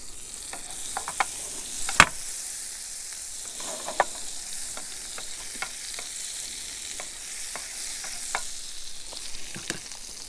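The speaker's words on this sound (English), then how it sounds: "So I'm going to go ahead and throw that on the frying pan." Seasoned food sizzles in a frying pan at a bikepacking camp in Lassen National Forest, a steady close crackle broken by scattered sharp pops and spits.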